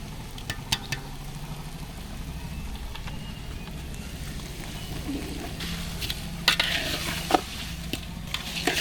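Mango pickle with mustard, nuts and spices cooking in oil in a village kitchen, a steady low sizzle and frying hiss throughout with a few sharper crackles and pops near the end, while people talk over it.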